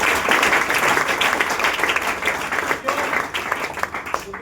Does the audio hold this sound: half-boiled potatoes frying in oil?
no